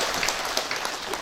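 Applause from the audience at a mass cremation ceremony in Bantiran village, Tabanan, Bali: a short burst of dense, fairly distant clapping filling the whole moment.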